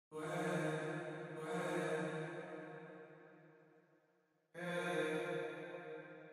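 A soloed sung vocal phrase from a reggaeton mix, drenched in a long Ableton reverb whose tail swells and slowly fades between two sung bursts, with no other instruments.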